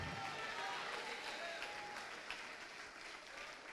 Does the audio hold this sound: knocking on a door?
no